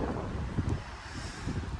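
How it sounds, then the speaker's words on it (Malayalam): Strong wind at a waterside buffets the microphone in a continuous low roar with gusty swells, loud and without speech. "കാറ്റ് ഭയങ്കര"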